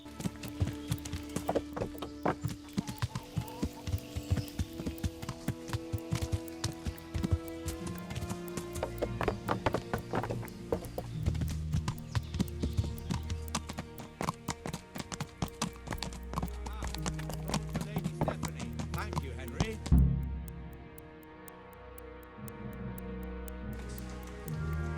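Horse hooves clip-clop in the medieval video game Kingdom Come: Deliverance, a brisk, steady run of hoofbeats for about twenty seconds over soft background music, then slowing into a few scattered steps.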